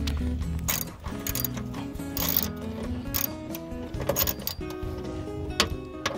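A 10mm ratchet clicks rapidly as it backs bolts out of a 2000–2006 Nissan Sentra power window regulator, close, uneven bursts of sharp ratcheting with brief pauses and faint metallic knocks, no speech.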